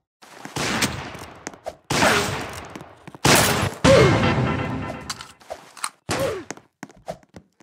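A golden pistol fires in a Roblox KAT match: five loud, separate gunshot bursts with short gaps between them, each ending in a brief echoing tail. No voices are heard.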